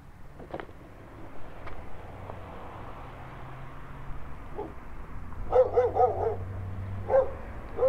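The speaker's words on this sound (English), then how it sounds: "this is definitely the favela dog protecting the street" A dog barks repeatedly on a Brazilian favela street, a few scattered barks early then a louder burst of barking and yips midway, heard at moderate distance over rolling skateboard wheel rumble.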